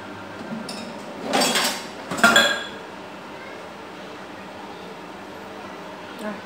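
A ladle skims foam from a simmering pot of fish braised with pineapple, making two short bursts of metallic clinking and scraping against the pot over a quiet, steady background hiss.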